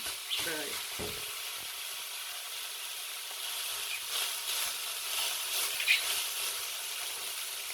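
Food fries in a pot with very little oil while a taco-style dish is cooked, a steady close sizzle and hiss with a few clattering knocks near the start.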